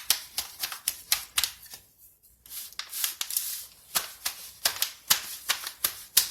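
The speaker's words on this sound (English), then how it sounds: "what I'm going to do is pat these dry with a paper towel" Pork ribs being patted dry with a paper towel produce a close, rhythmic series of soft papery taps and crinkles, with a brief pause midway.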